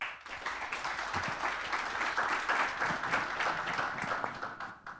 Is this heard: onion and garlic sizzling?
no